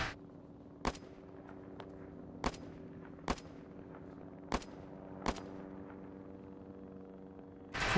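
Single gunshots in Arma 3, sharp cracks at irregular intervals of roughly a second, moderately distant against a low steady background hum.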